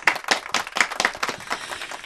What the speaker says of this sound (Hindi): जोरदार तालियां लक्ष्मी छाया जी के लिए।